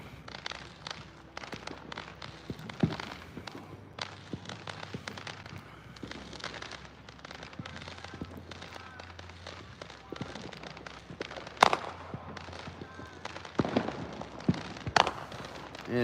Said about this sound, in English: See that little shower of fireworks going off over there